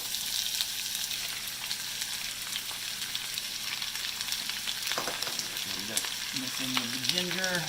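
Cut vegetables sizzling in a heavy Dutch oven for a Thai coconut lime mussel curry, a constant close frying hiss, with a person speaking briefly near the end.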